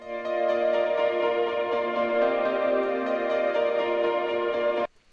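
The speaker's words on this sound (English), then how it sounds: "So a really reverb and delayed out sound." Sampled piano tone drenched in reverb and ping-pong delay, a dense sustained harmonic wash holding steady for nearly five seconds before cutting off abruptly into silence.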